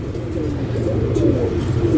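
A short-beak pigeon with a broad chest, round head and blue-shaded eyes coos in low, rolling phrases, close and continuous over soft background noise.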